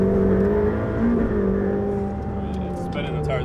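A Ferrari F8 Tributo pulling hard under acceleration, a loud steady engine drone with a rising whine, heard from inside the cabin, faint voices toward the end.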